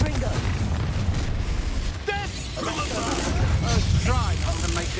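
Spell blasts from the Expulso and Confringo charms in Hogwarts Legacy crack out as booming bursts over a dense, continuous game soundscape, with voices talking throughout.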